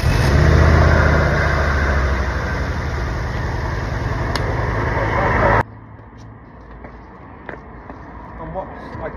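A Ford Focus ST engine idles with a steady low hum for about five seconds, then the sound cuts off abruptly. People talk nearby throughout.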